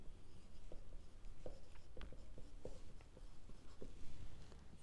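A pen writes an accounting journal entry on paper with soft, close scratching strokes and light taps in an irregular rhythm, quiet and with no talk.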